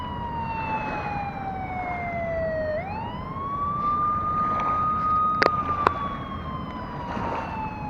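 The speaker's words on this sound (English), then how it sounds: "I suppose that's why the siren is going" A dam warning siren wails during a floodgate water release, one long tone gliding down, then rising and holding steady, heard from a distance over constant rushing water with a couple of sharp clicks.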